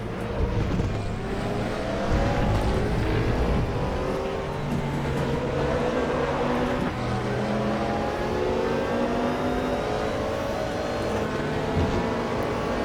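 GT3 race car engine in the RaceRoom sim at Paul Ricard, loud and continuous, its pitch stepping down through the gears into first for a right-hander, then rising again under throttle, with no talk.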